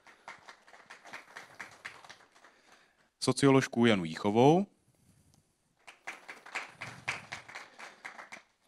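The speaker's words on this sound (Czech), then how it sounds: "Prosím o krátký potlesk." A short burst of audience clapping for introduced guests at a Czech panel event on urban safety, rising briefly between spoken introductions, fairly close and moderately loud.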